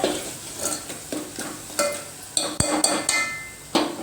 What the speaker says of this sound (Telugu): పసుపు వేసి మంచిగా కలపాలి